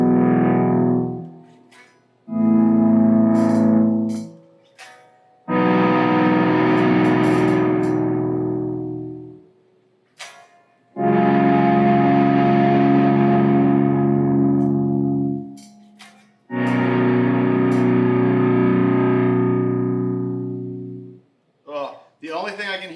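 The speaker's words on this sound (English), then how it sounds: "The only thing I can hear between the Wampler and the Nobel Screamer is the Nobel Screamer has a little bit more overall presence" Electric guitar runs through Wampler and Keeley Nobel Screamer overdrive pedals, producing loud, saturated chords. Each strummed chord rings and slowly decays, separated by short silences.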